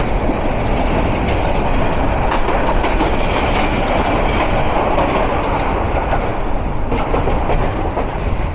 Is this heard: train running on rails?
yes